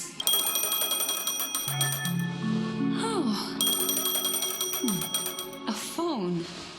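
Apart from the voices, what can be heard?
phone ringing in the video game Honkai Star Rail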